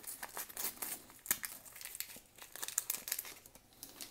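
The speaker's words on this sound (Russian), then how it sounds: "открываем следующий у нас пакетик" Crinkly plastic Panini Spider-Man sticker packet being torn open up close, a run of rapid crackles and rips with no talking.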